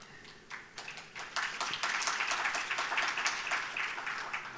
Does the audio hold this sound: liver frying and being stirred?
no